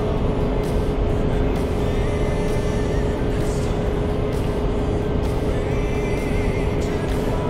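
2025 Subaru Forester Touring engine climbing a mountain road at about 3,100 RPM, a loud, steady drone with a constant pitch and dense road and wind noise inside the cabin, no talking.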